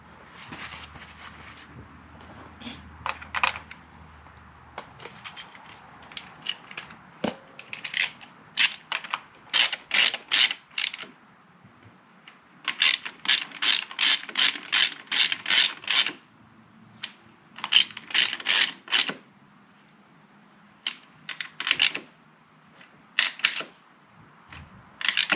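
Bolts on a Suzuki DRZ400s engine being tightened by hand with a ratchet, giving repeated bursts of rapid close clicking separated by short pauses, with faint workshop clatter between.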